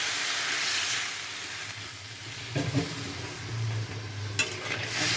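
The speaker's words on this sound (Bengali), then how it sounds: "এর মধ্যে এখন বেশ খানিকটা জল দিয়ে দেব।" Water poured into a hot pan of Bengali mango curry (aam jhol), giving a steady loud hiss and sizzle with a brief bubbling surge partway through, no voices.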